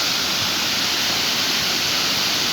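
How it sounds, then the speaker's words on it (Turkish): A waterfall in a snowy landscape roars as a dense, loud, steady rush of falling water, continuous and close throughout, with nothing else audible. "şelaleye de bakalım"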